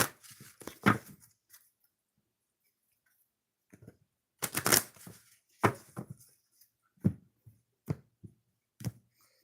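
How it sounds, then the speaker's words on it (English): Crisp bursts of riffling and tapping, a few quick runs of an oracle card deck being shuffled close by, with short pauses between. "Shuffle it a couple times and then we'll get started."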